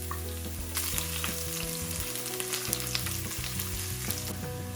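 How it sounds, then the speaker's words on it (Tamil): Chopped garlic frying in hot oil for fried rice, a continuous close crackling sizzle with scattered pops and stirring scrapes throughout; no voices. "இப்போ இந்த சூடான எண்ணெய்க்குள்ள நான் இந்த வெட்டி வச்சிருக்கிற உள்ளியை போட்டு"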